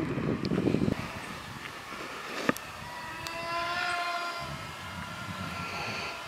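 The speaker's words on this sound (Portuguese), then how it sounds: "agora ele passou num rasante aqui" A remote-control Su-35 fighter jet model makes a low pass, its thin whining jet tone rising and sweeping across the sky outdoors in light wind, steady and moderately distant after a brief gust of handling noise.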